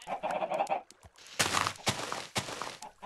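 Chickens clucking in the Minecraft video game, a few short bursts mixed with a voice talking over the gameplay.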